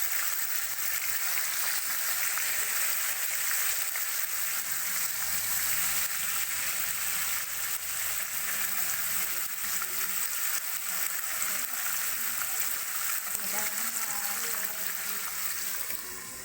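Fish fries in mustard oil with a continuous, even hiss and sizzle, close and steady throughout, with faint kitchen movement underneath.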